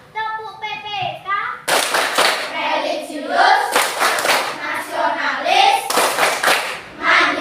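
Schoolchildren in an Indonesian elementary classroom perform a rhythmic group hand-clap chant, with loud, dense bursts of clapping interleaved with their chanted voices throughout.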